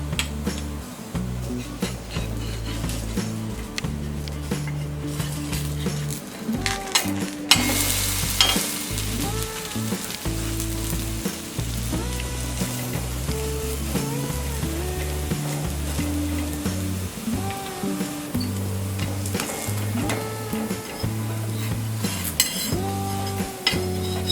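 Rajgira (amaranth flour) paratha frying in ghee on a pan, a steady sizzle running throughout with occasional scraping and clinks of a spatula against the pan, no talking.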